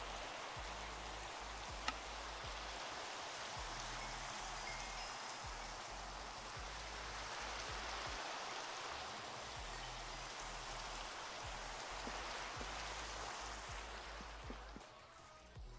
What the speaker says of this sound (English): I want it not to be raining.